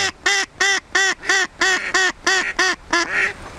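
Semyonov-breed decoy duck quacking loudly and close, a steady run of about eleven evenly spaced harsh quacks with no talk over it.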